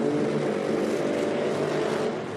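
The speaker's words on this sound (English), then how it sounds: "Loud car." A loud nitro drag racing car roars steadily at an outdoor drag strip, a dense, continuous engine blare with no talk.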